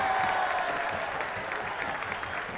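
A stadium crowd at a U.S. Open Cup soccer match between Saint Louis FC and Minnesota United reacts after a whistle, a broad, steady roar of voices and clapping at moderate distance.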